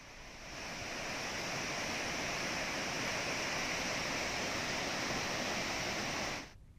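Massive torrent of water released through the opened gates of Narayanapur dam into the Krishna river during heavy monsoon rain, a steady loud roaring rush that holds constant and cuts off abruptly near the end.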